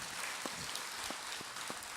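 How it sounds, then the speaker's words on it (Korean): A crowd applauds steadily at a Buddhist monk's lecture, a dense wash of clapping with a few sharper claps standing out. "박수를 맞으세요."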